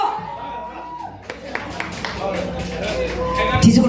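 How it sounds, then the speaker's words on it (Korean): Fans at a year-end fan meeting party for a pumba singer clap in scattered, uneven bursts that build toward the end, under loud talking and background music. "박수 한번 주시기 바랍니다 여러분."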